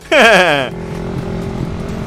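An ATV engine on a dirt track revs hard in a loud, rising whine for about half a second, then drops back to a steady lower drone that continues to the end.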